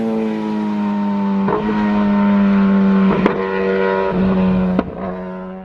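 Suzuki GSXR motorcycle engine fitted with a new exhaust, idling and blipping with a steady, strongly harmonic drone, punctuated by several sharp throttle pops; loud and close, no talking.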